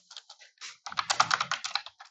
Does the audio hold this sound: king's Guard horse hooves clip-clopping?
no